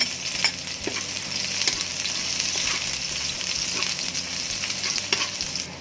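Garlic and onion fry in hot oil for lumpiang shanghai, making a loud, steady sizzle close by with occasional sharper crackles and soft stirring sounds throughout. No one speaks.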